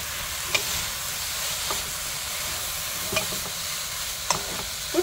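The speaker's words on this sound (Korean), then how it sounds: "황태채를 넣고 다시 한번 이렇게 볶아주세요." Shredded dried pollack is stir-fried in a pan for soup, a constant close sizzle with the spatula scraping and tapping now and then, and no voices.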